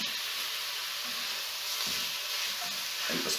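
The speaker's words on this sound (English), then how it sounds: "I'm going to turn the heat up to full inferno and in with the beef" Minced beef frying in a very hot pan for a bolognese meat sauce, a loud continuous hissing sizzle with occasional scraping stirs and pops, heard close up without voices.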